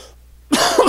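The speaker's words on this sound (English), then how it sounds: "Excuse my cough, folks." A single harsh cough from a radio show host with a scratchy throat bursts out loud and close after a brief quiet pause.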